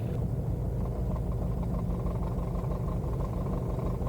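An aircraft piston engine idles at about 775 rpm with the throttle closed, a dense, even rumble holding steady and loud throughout with no speech.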